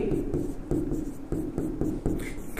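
A pen scratches rapidly across paper during a physics lecture, in short repeated strokes with a quick, uneven rhythm, close up and fairly loud.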